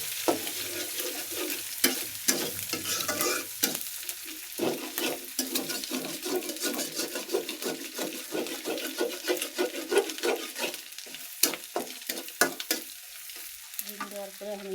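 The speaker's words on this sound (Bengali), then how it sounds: "এখন ডিম দিয়ে দিলাম পাস্তার মধ্যে, আকালে পেঁয়াজ ভুনে নিয়ে ডিম দিয়ে দিলাম" Egg sizzling in a pan with onions already fried, pasta dish in progress, steady frying hiss broken by frequent stirring scrapes and clicks of a utensil, close and fairly loud throughout.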